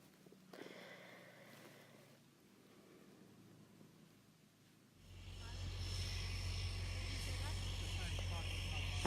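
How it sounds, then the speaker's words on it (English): A seaplane flies over the Hawkesbury River past riverside holiday homes. The quiet start gives way about halfway through to a loud, steady engine roar that keeps building until the end. "This is a seaplane."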